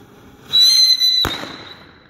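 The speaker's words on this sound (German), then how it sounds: "Das waren auf jeden Fall die Meteorschläge von Nico" A Nico Meteor Schlag aerial firework shell rises with a short bright whistle and bursts in one sharp, loud bang, followed by a brief fading crackle outdoors.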